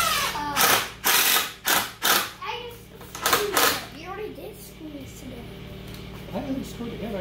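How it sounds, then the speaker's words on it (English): A screw is driven down through a wooden board while building a wishing well, heard as a series of short, loud, rhythmic ratcheting bursts, followed by talking. "I'm gonna go ahead and screw down the first board."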